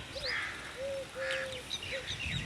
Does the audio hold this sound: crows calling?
yes